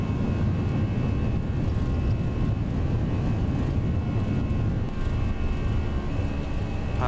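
Steady, loud, continuous roar of A320 airliner engines at takeoff power during the runway roll in the X-Plane 11 flight simulator, unbroken from start to finish with no voices.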